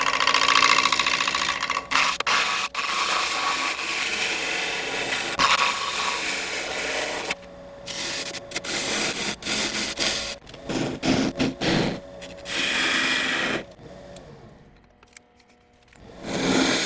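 A lathe spins a spalted elm burl while a gouge makes cuts to tidy its edges, giving bursts of scraping, rubbing noise broken by pauses and a steady motor hum.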